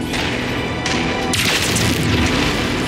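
A demolisher tank blows up in MechWarrior 5, a heavy booming explosion with rumbling crashes and a bright burst of debris noise midway, loud and sustained.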